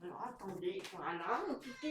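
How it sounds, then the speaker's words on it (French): An elderly 24-year-old house cat meows indoors, its cries mixed in with someone speaking French close by throughout. "attendez 2 minutes parce que j'ai mon chat qui miaule"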